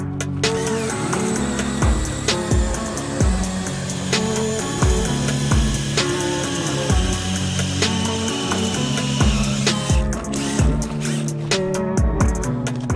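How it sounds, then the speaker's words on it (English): A powered ice auger bores through lake ice at a Colorado state park, a loud, steady engine drone close by with repeated grinding, scraping bursts as the blade cuts, running unbroken throughout. "I'm gonna start drilling a little shallower so we can move."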